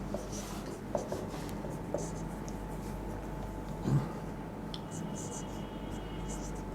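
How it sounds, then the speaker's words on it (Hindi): Marker or chalk scratches steadily across a board as a reasoning question is written out in full, a continuous close scraping texture with a few small taps, while someone speaks quietly over it. "इस क्वेश्चन को पूरा लिख देता हूं"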